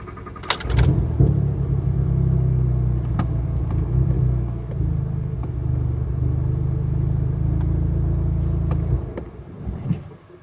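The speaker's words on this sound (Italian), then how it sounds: "l'auto stenta a partire e una volta messa in moto si spegne subito." A faulty VW Golf R cranks with a jangle of keys, then catches and runs with a loud, rough, low idle for several seconds before abruptly stalling and falling quiet.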